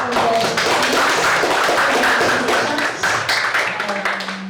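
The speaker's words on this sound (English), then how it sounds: "let's give a round of applause for" Audience applause at a lower secondary school debate competition final: dense, steady clapping from a crowd fills the whole stretch, loud and close, tapering slightly at the end.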